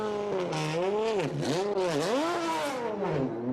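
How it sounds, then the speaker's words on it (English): A V12 Le Mans endurance race car engine fires up and revs hard, its loud rising and falling pitch sweeping through several blips over a few seconds, close by and with no talk. "Now let's hear this V12 fire up."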